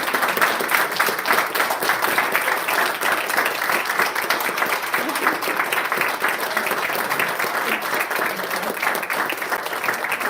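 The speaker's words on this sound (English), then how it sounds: "a round of applause" An audience at a school board of education meeting applauds steadily, a dense, even round of clapping that carries on for about ten seconds with little talk.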